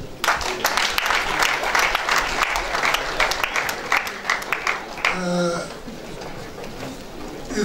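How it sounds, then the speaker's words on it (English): An audience at a memorial lecture and fellows induction ceremony claps in a sustained round of applause, fairly close and even, then thins out near the end as a brief tonal sound cuts in. "Once again, a round of applause for Chendu."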